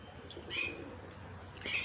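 Birds call outdoors in two brief, faint chirping bursts, distant and soft over a low, steady background hum.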